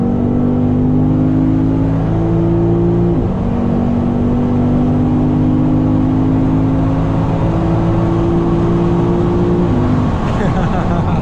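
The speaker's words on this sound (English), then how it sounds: "We're gonna go down this stretch and just floor it in drive." A Lexus IS 500 F Sport Performance V8 accelerates hard at full throttle in drive, its loud steady drone rising in pitch, dropping sharply at a gear shift and climbing again, with a second shift near the end.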